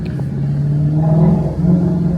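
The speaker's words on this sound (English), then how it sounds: "the stock GT350R exhaust just sounds so good with the valves open" A Ford Mustang Shelby GT350R's stock exhaust drones steadily with its valves open, the engine note rising into a throaty, building growl as the car accelerates.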